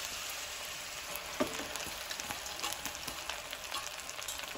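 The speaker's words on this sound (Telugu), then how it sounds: "ఇప్పుడు ఈ గోంగూరని ఆయిల్లో వేసుకోవాలి." Gongura (sorrel) leaves, red and white varieties mixed, frying in oil in a kadai, giving a steady broadband sizzle with scattered crackles and pops throughout, with no voices.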